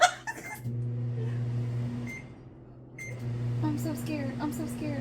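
A microwave oven runs with stainless steel inside, giving a steady low mains hum and fan drone that dips briefly midway, with light clinks and rattles on top and a voice speaking faintly.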